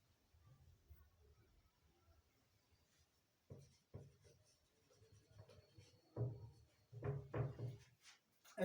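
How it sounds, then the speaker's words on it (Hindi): Handwriting in a Hindi-language lesson sounds as faint, soft scratching strokes that come in short bursts, quiet and close, with a few louder knocks toward the end. "लिख देता हूं मैं।"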